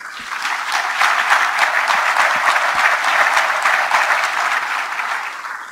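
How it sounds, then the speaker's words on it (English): An audience at a 2018 Connecticut Republican governor's debate in New Canaan breaks into sustained applause. The clapping is dense and even, swells quickly, holds steady for several seconds, then eases slightly. "we owe all of our families a round of applause"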